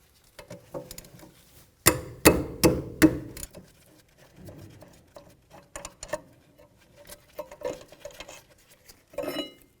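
Brake caliper mounting bolts are worked loose on a 1998–2002 Honda Accord, with several sharp metallic clanks and ratchet clicks close by, then scattered quieter taps and rattles of tools against metal.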